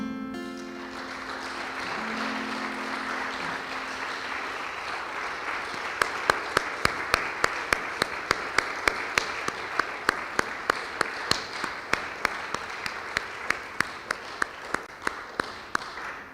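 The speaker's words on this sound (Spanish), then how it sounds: "Dale un aplauso." Audience applause at a church service: a dense, sustained wash of clapping from a congregation, with sharp, regular louder claps joining in from about six seconds and continuing to the end, with no talk over it.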